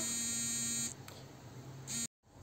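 A phone buzzing on vibrate indoors, a steady electric hum that cuts off, briefly returns and then stops abruptly, loud and close.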